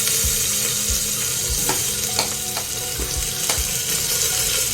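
Ginger-garlic paste fried in hot ghee for a corn pulao makes a dense, continuous sizzle, close and loud, with scattered small crackles and spatter pops and no voices.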